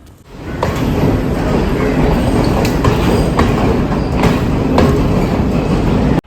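A passenger train pulls in at a station in Sri Lanka, a loud, continuous rumble of wheels and carriages with periodic rhythmic clicks and faint squeals of steel on rail, steady from start to finish.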